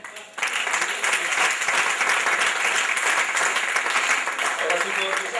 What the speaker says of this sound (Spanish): Un aplauso al Señor presidente